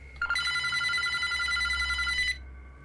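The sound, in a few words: telephone ringing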